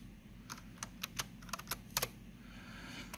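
Clicking keystrokes on a computer keyboard while entering chemistry equations in Google Docs, a dozen or so irregular taps in short bursts, close and fairly quiet over a low steady room hum, with no talking.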